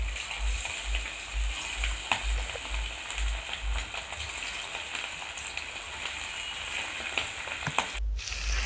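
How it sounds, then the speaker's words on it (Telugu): Prawns sizzle and fry steadily in hot oil for restaurant-style prawn pakodi, a continuous crackling hiss with occasional sharper pops, close by and with no talking. "ఇప్పుడు కాగుతున్న నూనెలోకి రొయ్యల్ని ఒక్కొక్కటిగా తీసుకొని వేసుకోవాలి."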